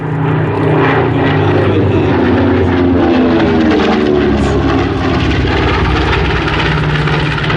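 A WWII medium bomber flies past at the Sywell airshow, its propeller engines a loud, continuous droning roar that swells and holds close by with no talk over it.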